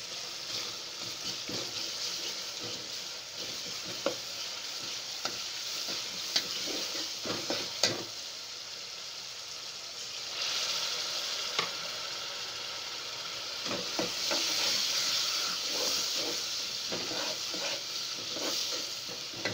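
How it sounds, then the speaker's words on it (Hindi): Onions, masala and freshly added ginger fry in a pan with a steady close sizzle, broken by repeated scrapes and clacks of a stirring spoon. "अदरक हम इसमें इसी अभी डाल देंगे, ये देखें"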